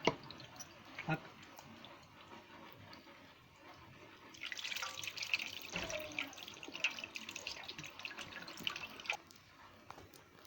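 Water runs and splashes softly while wheat flour dough is squeezed and rubbed under it, with quiet wet squelches, faint and close.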